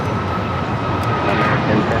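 Heavy Boeing 787 jet engines roaring steadily on a parallel runway departure at Los Angeles airport, a continuous loud broadband rumble filling the whole moment.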